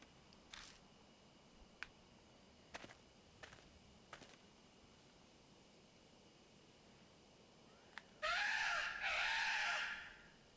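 Crow cawing in the video game Deathmark, two harsh caws close together near the end, following a few faint, sparse clicks over a quiet background.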